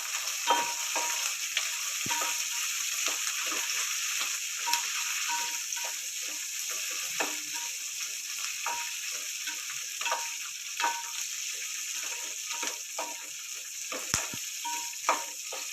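Cut green chilies fry in hot oil with a continuous sizzle. Sharp crackles and pops sound throughout, unevenly spaced, over steady background frying.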